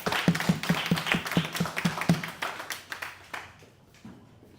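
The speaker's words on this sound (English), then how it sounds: "please give a round of applause for all the winners" A small audience applauds the winners at a monthly board meeting, a few seconds of fairly close, steady clapping that thins out and fades away.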